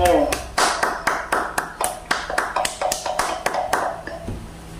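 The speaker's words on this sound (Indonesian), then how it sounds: "Tepuk tangan untuk kita semua." Rhythmic group clapping at a school presentation in Indonesia, a run of about fifteen sharp, evenly spaced claps from a nearby audience that stops abruptly near the end, with a voice briefly heard at the start.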